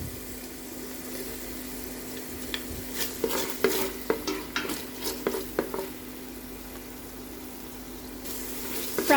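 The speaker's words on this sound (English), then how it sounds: "Fry it until it releases the aroma." Sliced ginger frying in a pot used earlier for chicken adobo gives a steady low sizzle, with a run of clicking scrapes from stirring in the middle.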